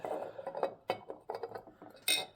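A ceramic sugar bowl and its lid, unpacked from a thrift-store haul, clink and knock in a quick series of light, close taps, ending in a brighter ring, with no speech.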